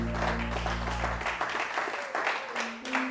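A church congregation applauding and cheering in acclaim, a continuous wash of clapping and crowd voices under a low sustained hum that cuts out partway, then the applause carries on alone.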